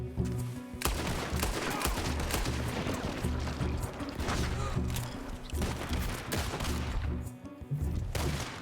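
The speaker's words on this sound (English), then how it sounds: "Well, looks like it's a gunfight." A Red Dead Redemption 2 gunfight with a steady stream of gunshots, loud close cracks and distant pops overlapping almost continuously for several seconds before a brief lull and a final burst.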